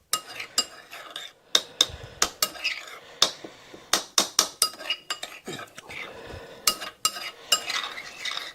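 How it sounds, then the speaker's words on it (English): Garlic stirred in a pan outdoors, with a utensil clinking and scraping against the metal in quick irregular strokes over a soft sizzle, fairly close. "Oh, we then do give us a bit of a stir."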